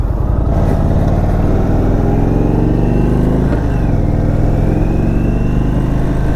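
A 2022 Indian Super Chief Limited motorcycle being ridden, its engine a loud, steady, deep rumble heard close up, with a rising rev partway through and a constant wind and road hiss.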